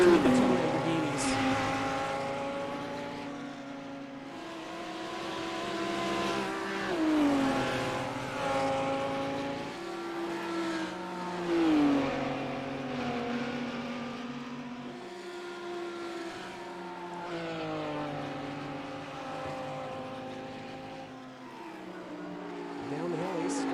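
Lamborghini GT race cars in the KRL S4 GT Challenge at Bathurst roar past with rising and falling engine notes and gear-change shifts, sounding continuous and moderately loud at a distance.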